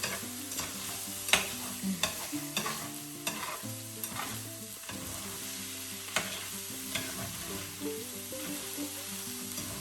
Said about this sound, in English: And I'm gonna stir it, and now it's got a nice brown underneath.